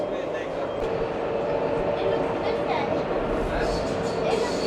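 A metro train in Qatar rumbles steadily past with a constant rolling hum and faint rail clatter, close and fairly loud throughout.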